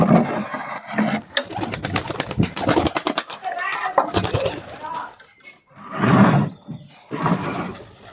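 Pigeons coo and flutter in a home coop just after its lock is opened, the soft calls mixed with rustling and a person talking nearby throughout.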